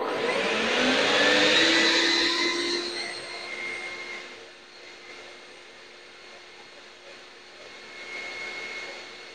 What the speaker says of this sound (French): c'est la vitesse 1 de mon aspirateur d'atelier